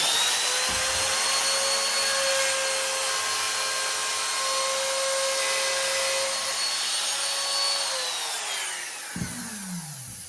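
Router bit cutting 60-degree bevels on thin kumiko strips, a loud, steady high-pitched whine that holds for most of the clip before spinning down near the end.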